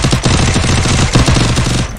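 Rapid automatic gunfire rattles in a competitive 4v4 shooter video game match, a loud, dense burst of repeated shots lasting nearly two seconds, close and dominating.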